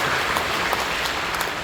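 A church congregation at a Korean worship service gives sustained, dense applause, many hands clapping together in a large room, steady and fairly loud throughout.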